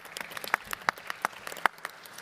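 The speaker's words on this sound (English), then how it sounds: "a special round of applause also for them" Sparse, scattered handclaps from a small audience at a tourism forum, individual claps distinct and moderately close, fairly faint overall.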